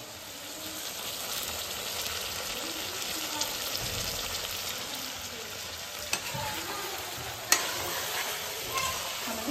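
Food for an evening chicken curry frying in a pan as it is stirred, a steady close sizzle with a few light scraping clicks from the stirring.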